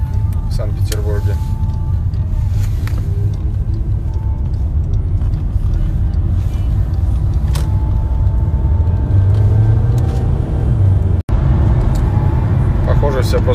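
Cars pass on a street in St. Petersburg, among them a McLaren and a Mercedes, giving a steady loud engine and road rumble with passing swells, while someone talks over it.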